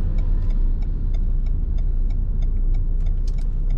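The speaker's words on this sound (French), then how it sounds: "Donc le niveau sonore est plutôt assez élevé dans cette voiture." Cabin noise inside a 2018 Renault Kadjar dCi 110 diesel SUV while driving: a loud, steady low rumble of road and engine with faint intermittent ticks above it.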